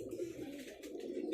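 A pigeon coos softly while being handled, a brief low throaty murmur that repeats faintly and close by, with no voices.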